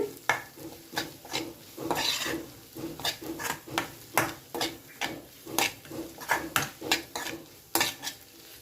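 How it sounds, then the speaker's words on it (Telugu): A spatula scrapes and clinks rhythmically against a pan while two eggs are scrambled with chili powder into an egg poratu, giving a quick, repeated series of close metallic strokes with a faint sizzle underneath. "కారం వేసినాక బాగా ఒకసారి కలపండి"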